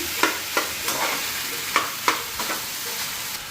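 Chow mein noodles sizzle and fry in a hot wok, with a spatula scraping and stirring in irregular strikes over a steady, hissing background of frying.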